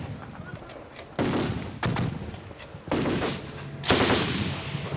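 Gunfire from a battle between army forces and Taliban fighters near Barg-e Barak, with bursts of automatic fire and heavy shots erupting repeatedly, loud and close, some rounds echoing over a rumbling background.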